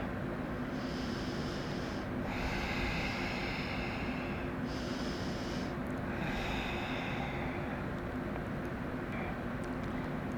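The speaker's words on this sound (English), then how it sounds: "Breathe in. Breathe out." Slow, deep breaths in and out during a scoliosis-friendly yoga mobility session, a soft airy rush rising and falling in long cycles over a steady low background hum.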